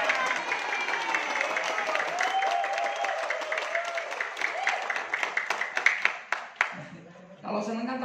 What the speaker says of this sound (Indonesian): Kalau seneng kan tepuk tangan